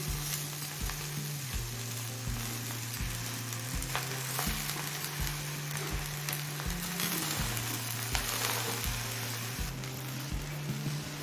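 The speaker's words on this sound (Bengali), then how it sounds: "চিংড়ি মাছের মাথা দিয়ে মিনিট পাঁচ ভেজে নিলাম এবার কচু পাতাটা দিয়ে দিচ্ছি" Taro leaves frying with prawn heads in a pan, a steady soft sizzle with regular stirring strokes scraping through it, quiet and close with no talk.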